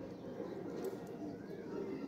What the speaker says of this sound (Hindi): सारे छप्पड़ा वाले कबूतर आ सर, छप्पड़ा वाले